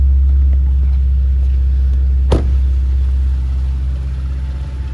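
A 2017 Porsche Macan GT-S with active exhaust runs steadily at idle, a loud, close, even low rumble that holds throughout, broken only by one brief sharp click near the middle.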